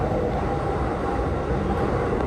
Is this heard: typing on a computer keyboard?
no